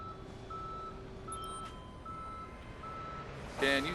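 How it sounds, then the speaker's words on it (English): A tow truck in the police patrol video game Police Simulator: Patrol Officers backs up, its reversing alarm beeping in a steady, moderately quiet intermittent pattern over low vehicle rumble, ending with a louder burst of sound. "Tow truck will arrive at your location shortly, officer."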